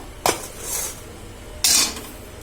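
Chow mein is served onto a small plate, two short clinks and scrapes of utensil against dishware about a second apart, close and fairly clear, with no talk.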